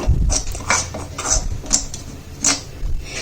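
A spoon stirs a henna and indigo powder hair dye mix in a bowl, making a series of separate scraping clinks against the bowl's side in an uneven rhythm.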